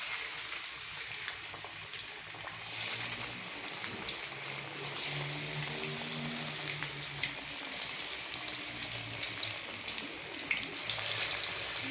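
Chicken pakora sizzling steadily in hot oil for a street-style chicken fry, a continuous dense crackle and hiss that holds at an even, fairly loud level from start to finish with no talking over it.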